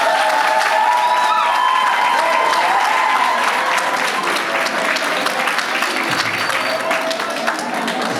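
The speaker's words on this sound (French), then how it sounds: "Applaudissons." Guests at a civil wedding ceremony applaud warmly after the couple chooses monogamy. The clapping is full and sustained throughout, with a few voices and faint cheers mixed into the crowd sound.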